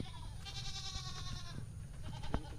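Goats bleating at feeding time on a small livestock farm, several overlapping wavering cries close by with farmyard rustle beneath and a sharp knock near the end.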